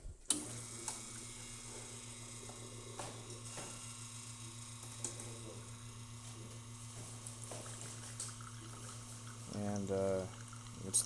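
Lelit Bianca espresso machine pulling a test shot, a steady pump hum and mechanical whir running throughout with faint clicks, then a brief louder gurgling, sputtering burst near the end.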